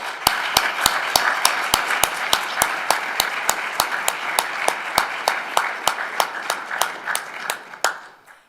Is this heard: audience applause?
yes